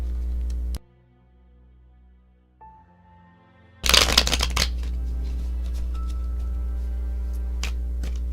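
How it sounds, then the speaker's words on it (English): Tarot cards are shuffled in a burst of quick riffling and slapping, followed by softer scattered card sounds over a low steady hum. "I'm going to shuffle that."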